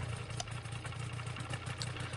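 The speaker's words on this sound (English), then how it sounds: "I've got a little gas-powered engine here on the back" A small gas-powered engine mounted on the back of an ultralight aircraft in Ultrawings runs with a steady, chugging idle, close and continuous, with clattery ticks on top and no voices.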